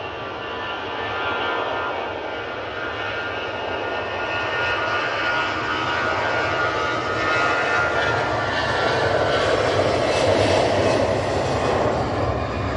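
A steady, loud jet-engine roar from an EasyJet airliner at Manchester Airport in stormy weather, swelling gradually and holding a broad rumble with a rising whine, with no talking.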